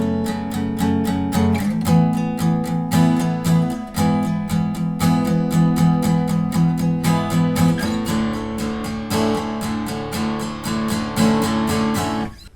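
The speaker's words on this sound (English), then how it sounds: "and if you're not to play the accents, it will just sound like this" Acoustic guitar strummed with even downstrokes and no accents, a steady loud rhythmic chord pattern with regular strums changing chords partway through, no talking.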